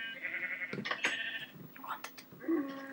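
Sheep bleat in Minecraft, several wavering, nasal bleats close by, one after another, while a person talks over them.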